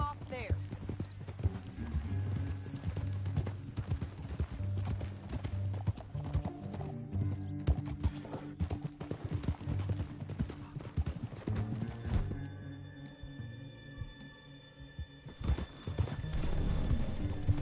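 Horse hooves gallop in a rapid clip-clop rhythm through Red Dead Redemption 2, several horses running close and loud with an occasional whinny, some game speech and music over them, thinning out near the end.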